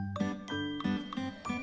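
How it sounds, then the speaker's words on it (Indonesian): A bright bell chime rings in repeated tinkling strikes, about five in quick succession, clear and close with no talking. "bunyikan lonceng notifikasinya"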